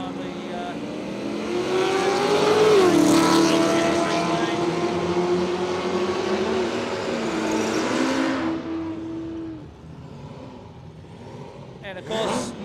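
An LC Torana and a red Commodore Ute drag racing at Willowbank Raceway, engines revving hard and roaring off the line, loud and close, then fading as the cars pull away, with a commentator talking.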